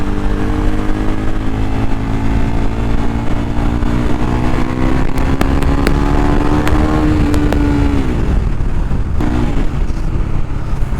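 Motorcycle with a modified exhaust, DP killer removed and a new bend pipe fitted, riding close and loud with a deep throbbing drone, pitch shifting as the throttle eases off, and wind buffeting.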